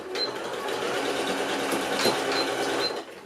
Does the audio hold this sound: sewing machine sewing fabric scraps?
yes